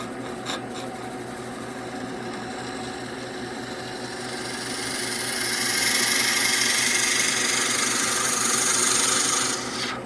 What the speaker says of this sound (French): L'autre opération va consister à les percer à la presque profondeur.